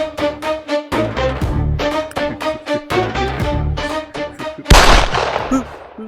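A gunshot fired at a target and missing, heard amid a tense scene: sharp repeated percussive hits and a loud burst near the end, over a pulsing dramatic music bed.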